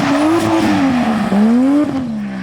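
A car with a welded differential drives along with a steady engine drone whose pitch rises and falls, plus brief scuffing bursts from the tyres, close and continuous.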